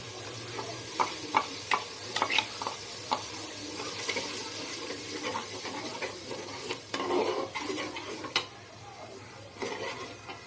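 A spoon stirs turmeric, salt and chilli powder into curry frying in a pot, with scraping clinks against the pan and a soft sizzle underneath, close up and fairly quiet, with no one talking.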